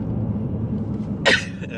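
One short, sharp sneeze bursts out near the end over a low background rumble.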